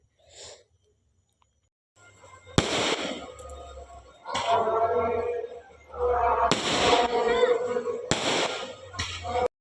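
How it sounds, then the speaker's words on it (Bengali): Firecrackers burst at dusk around an evening aarti, several loud sharp bangs at irregular intervals, each followed by crackling and fizzing, with a brief voice at the start. "এই যে দেখতে পাচ্ছ রংবাতি ফাটছে"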